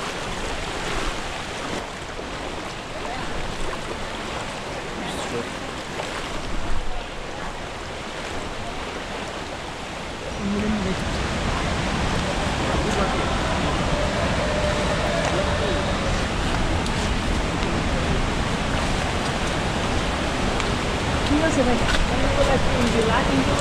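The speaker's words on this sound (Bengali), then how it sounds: "এই তো ঝর্ণার দেখা পেয়ে গেছি।" Sohosrodhara waterfall in Sitakunda gives a broad, steady rushing roar that swells louder and fuller partway through, mixed with wind buffeting and people talking nearby.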